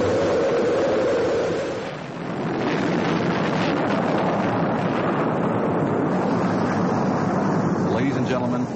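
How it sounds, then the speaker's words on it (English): Rocket main engines igniting at launch, a broad continuous roar swelling after a brief dip and holding loud and steady, with a voice heard over it early on. "We have main engine start."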